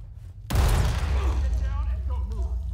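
A flashbang grenade goes off in the tactical shooter Ready or Not, a sudden loud blast followed by a sustained ringing, rumbling roar, with voices talking faintly underneath.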